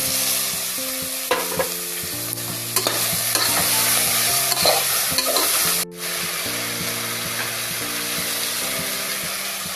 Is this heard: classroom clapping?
no